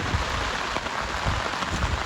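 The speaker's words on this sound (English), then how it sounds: "It's raining again." Steady, dense rain hisses continuously, a full even wash of falling water with no voices.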